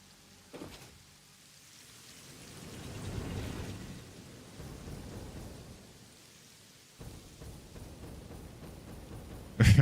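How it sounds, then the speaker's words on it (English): Rain and rolling thunder in the factory-building game Satisfactory: a steady hiss of rainfall under low, swelling thunder rumbles that build and fade, with a sharper crack near the end and no talking. "Really like the rain effects."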